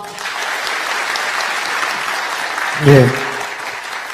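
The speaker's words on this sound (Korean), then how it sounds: "사장님께 더 큰 박수를 부탁드리겠습니다" Applause from the audience at a company's 24th anniversary ceremony, a steady crowd clapping throughout that swells briefly near the end as a voice speaks over it.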